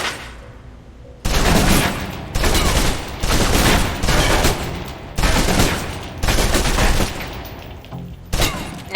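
Submachine gun bursts in the video game Alpha Protocol, several loud, rapid-fire volleys of roughly a second each, separated by short pauses, near and dominant.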